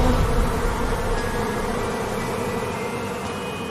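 A dense swarm of bees drones continuously at close range, a steady loud buzz with a low rumble beneath it and no break throughout.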